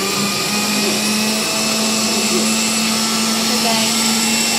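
A blender mixing crepe batter makes a loud, continuous motorized whir with a steady hum that drones throughout without pause, close and unchanging.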